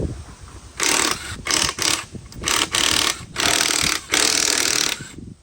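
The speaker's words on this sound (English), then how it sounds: "we're gonna throw our jack on the frame instead of anywhere on those pinch welds" A jack placed under the frame of a Jeep with rusted-out rockers is pumped up, giving a series of short, rhythmic scraping and clanking bursts with brief pauses between strokes, nearby and without speech.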